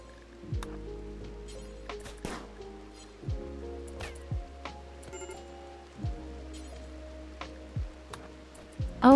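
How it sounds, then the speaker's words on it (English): Rain falling in the RimWorld video game, a soft steady patter alongside recurring low game tones and scattered sharp clicks, fairly quiet, with no talking. "Small downside, it's raining."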